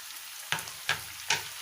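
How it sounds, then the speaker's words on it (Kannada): Finely chopped onion and coriander leaves fry in a pan with a faint sizzle, broken by three sharp scraping stirs at regular intervals, close and quiet, with no talking. "ಚೆನ್ನಾಗಿ ಫ್ರೈ ಮಾಡ್ಕೊಳ್ಳೋಣ ಇದನ್ನ."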